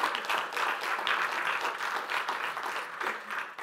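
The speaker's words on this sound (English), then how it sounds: "It's not a roaring round of applause" Applause from the audience at an entrepreneur talk, a dense, even patter of many hands clapping, moderately distant and steady from start to finish.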